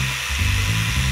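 A power tool cutting wooden boards for a bed frame, a brief steady buzzing whine that holds loud and close for about a second with no talk.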